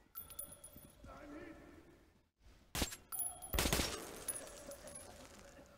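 Gunfire in Metro Last Light Redux comes as two short, sharp bursts, a quick crack and then a longer rattling volley. Quieter game ambience runs between them.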